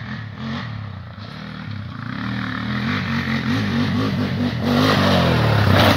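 A Honda TRX400EX ATV on an old dirt track revs hard at high RPM. The engine drone is close and continuous and swells slightly louder toward the end, with light clattering mixed in.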